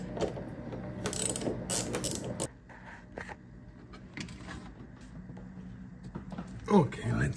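A ratchet clicks in short bursts, removing 16 mm steering bolts on a 2009 Ford F150. The clicks come close and crisp early, then thin out into sporadic metallic ticks and clatter, and someone talks intermittently.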